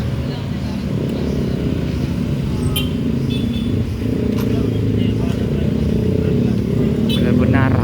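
Heavy traffic jam of private cars and motorcycles on a road between Solok and Sitinjau Lauik in West Sumatra: a dense, continuous rumble of idling and creeping engines, with a few faint horn-like tones, under a man's speech.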